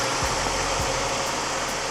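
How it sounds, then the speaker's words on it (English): A 2007 Toyota RAV4 with a 2.4-liter four-cylinder engine idles rough with a misfire, giving a steady low rumble broken by uneven thumps and shudders, close by and with no voices. "The car came in with a check engine light and the car is running very rough."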